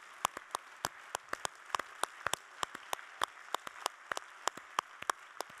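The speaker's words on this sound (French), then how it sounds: "Donc ça me ferait très plaisir si vous pouviez applaudir l'équipe, et notamment Nicolas Lizard et toute son équipe." Scattered, sparse hand claps from a small audience at a conference day's closing session, individual sharp claps spaced irregularly and fairly quiet, with no steady roar.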